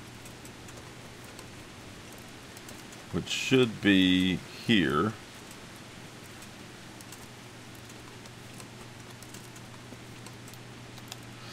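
Steady rain pattering through a medieval outdoor scene in the video game Kingdom Come: Deliverance, a soft continuous hiss running throughout, with someone talking briefly partway through.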